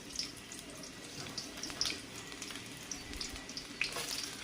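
Chopped onions hit hot oil for a hilsa fish and green banana curry, giving a steady, moderately quiet crackle and hiss with scattered sharp pops throughout, without speech.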